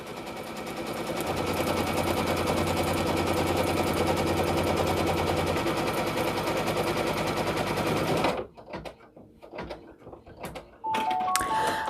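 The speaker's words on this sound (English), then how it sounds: "It truly is not advised that you put your fingers in the embroidery field when it's stitching." An embroidery machine stitches an applique onto a sweatshirt in a fast, loud, rapid-fire needle rattle that runs steadily for about eight seconds, then stops abruptly and leaves a few faint clicks and a short beeping tone.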